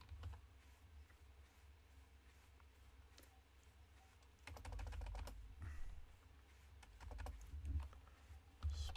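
Quiet, close clicks of a computer keyboard typing a short word in bursts, getting louder with clustered keystrokes in the second half; no one talks.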